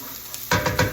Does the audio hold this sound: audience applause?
no